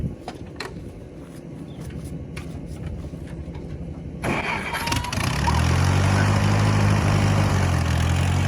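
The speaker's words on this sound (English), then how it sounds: "Run this tractor down there and put it up." A farm tractor's engine cranks and catches around the midpoint, then settles into a loud, steady low rumble outdoors after quieter background noise.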